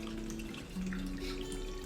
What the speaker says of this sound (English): let's go ahead and just pour this Old Crow in here